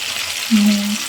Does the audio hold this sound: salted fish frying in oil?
yes